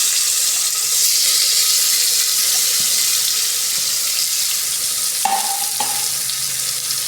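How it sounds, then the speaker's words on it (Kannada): Chopped onions dropped into hot oil in a pressure cooker, a loud continuous sizzle and fry with a couple of brief clinks near the end, no talk. "ನಾನು ಕಟ್ ಮಾಡ್ಕೊಂಡಿರೋ ಈರುಳ್ಳಿನ ಇದೇ ಕುಕ್ಕರ್ಗೆ ಹಾಕ್ತಾಯಿದ್ದೀನಿ."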